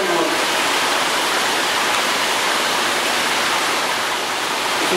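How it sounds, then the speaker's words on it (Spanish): Water pours continuously through tilapia farm tanks in Ecuador, a dense, loud, unbroken rushing flow heard close up, with no pauses for the full length. "Es un flujo continuo de agua"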